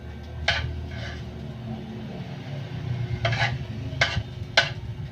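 Chaofan frying in a pan as an egg goes into the middle, a low ongoing sizzle broken by several sharp clinks and scrapes of a utensil against the pan, close by, with no voices.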